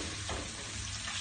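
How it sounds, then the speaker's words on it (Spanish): Fish frying in a pan with onion, a steady close sizzle and crackle of hot oil running throughout, with no talk. "Se está friendo."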